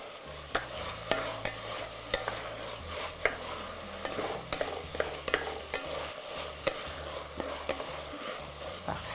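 Garlic sizzling in hot oil in a pan while being stirred, a steady frying hiss broken by frequent sharp scrapes and clicks of the utensil, close up, with a faint low hum underneath and no talk.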